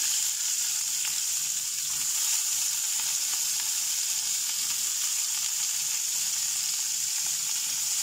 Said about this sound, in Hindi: अब सेम ऑयल में हम ऐड करेंगे क्यूब कैप्सिकम और ओनियन